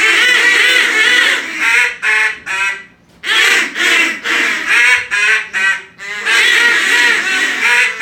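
A duck call blows a run of loud, close quacks in short rhythmic bursts, pausing briefly between groups.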